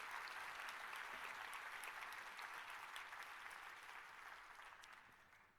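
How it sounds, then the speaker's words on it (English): Sustained applause from a crowd, steady and full for most of the stretch before gradually tapering off toward the end. "please join me in giving a round of applause to our sponsors"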